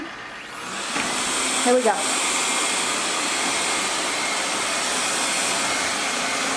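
A CISNO robot vacuum cleaner powers up: after a quiet moment a steady, fairly loud whirring hiss sets in and holds evenly, with a brief spoken phrase near the start.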